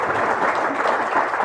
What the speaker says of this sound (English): This is the cheapest way to get applause at the beginning of a performance ever.